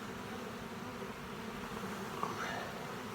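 Honey bees buzz steadily across a crowded hive frame while the colony is being inspected, a dense continuous hum close up with no voices.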